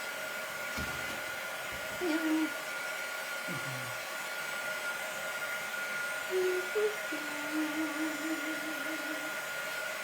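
A hair dryer runs steadily throughout, drying decoupage butterfly napkins glued onto a glass jar, a continuous whooshing hum with faint tonal whines rising and falling over it.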